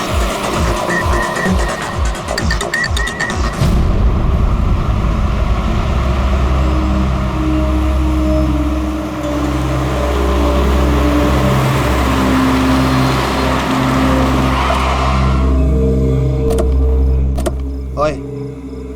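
A car hums steadily as it is driven, a sustained engine drone running beneath conversation between passengers and the driver, ending with a few sharp knocks.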